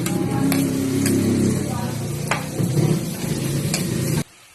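Onions and tomatoes sizzle steadily in a frying pan for Bicol Express, with a few sharp stirring scrapes and clinks over the constant crackle before it cuts off abruptly near the end.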